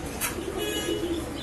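Pigeons cooing in a pigeon stall at Tongi market, low soft throaty coos repeating over a constant background murmur of the market, with a brief higher sound near the start.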